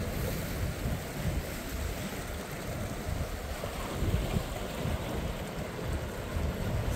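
Ocean waves roll in at Devonshire Bay, Bermuda, in the late afternoon, a continuous rushing wash of surf mixed with wind buffeting the microphone, with no talk heard.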